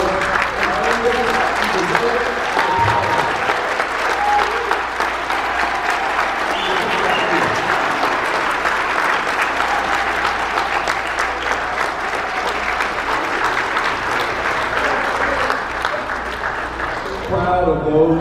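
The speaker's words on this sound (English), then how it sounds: "Please join me in giving a standing ovation and a warm round of applause for all of the winners of" A standing ovation at an awards ceremony honouring influential Asian Americans, with dense, sustained applause from a large audience that holds steady for many seconds before easing off at the very end.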